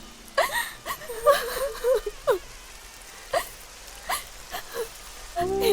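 Rain falls steadily in a scene from a Hindi dubbed action movie, a continuous hiss of patter under a woman's emotional speech.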